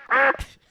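A single duck quack, short, nasal and loud, followed by a soft low thump, heard alone and close.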